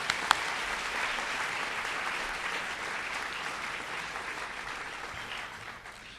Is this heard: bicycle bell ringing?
no